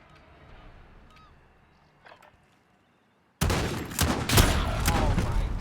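Automatic and burst gunfire from the Apex Legends shooter game opens abruptly after a near-silent stretch, growing into dense, loud overlapping volleys that last to the end.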